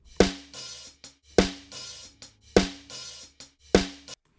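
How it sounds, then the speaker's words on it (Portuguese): A snare drum with its snare wires rattling, struck in a steady pattern: four strong, crisp hits about a second apart, with lighter taps between them. "Então esse é o som da caixa somado à esteira"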